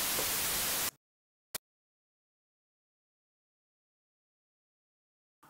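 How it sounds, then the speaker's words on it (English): Broadband white noise generated in Reaper and bounced to a noise file, a loud steady hiss for just under a second that cuts off abruptly, followed by a short click-like burst and a faint blip near the end. "let's just first create a noise file"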